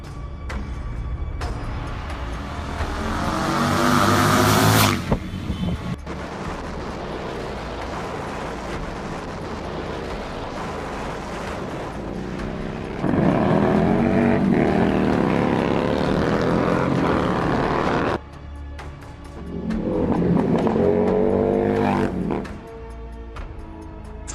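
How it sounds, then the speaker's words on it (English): Harley 750 cafe racer motorcycle with a performance exhaust, loud close revving in several surging blasts with deep throaty rumble, idling briefly between bursts. "a proper performance exhaust with the sound that we want to hear"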